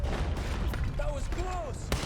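Gunfire in a Red Dead Redemption 2 shootout: several sharp shots spaced across the stretch, mixed with rumbling ambience and a shouted voice.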